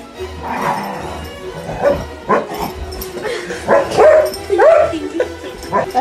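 A dog barks and yips in short bursts during rough play on a couch, with people talking and laughing over it nearby.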